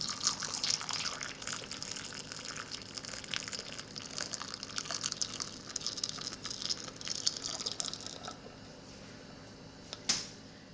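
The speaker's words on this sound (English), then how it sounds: "Just poured boiling liquid into it." Boiling pickling liquid pours steadily into a jar of jalapeños with a continuous splashing, gurgling rush, ending with a brief sharp clink near the end.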